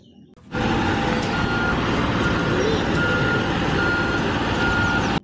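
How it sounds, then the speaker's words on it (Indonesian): A heavy cement mixer truck idles and rumbles nearby while reversing, its reversing alarm beeping steadily and repeatedly. "Wow, ini truk molen."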